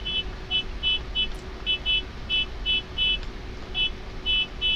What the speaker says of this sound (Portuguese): Tá fazendo música com a buzina na moto.